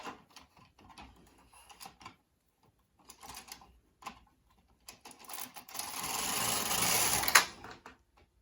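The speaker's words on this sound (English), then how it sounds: "And then I run my carriage across." Carriage of a Bond hand knitting machine pushed across the needle bed while making candlelight lace, heard as a steady close mechanical rasp and clatter lasting about two seconds after scattered quieter clicks.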